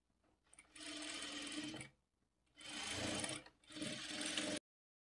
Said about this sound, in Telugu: ఇప్పుడు ఈ మార్కింగ్ మీదనే స్టిచ్ చేసుకోవాలి